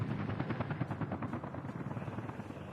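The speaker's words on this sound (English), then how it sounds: "that's a firefighting helicopter" A firefighting helicopter in the city-builder game Workers & Resources: Soviet Republic thuds with fast, rhythmic rotor chops over a dense engine whine, steady and fairly close throughout.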